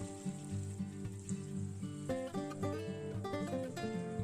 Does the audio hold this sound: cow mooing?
no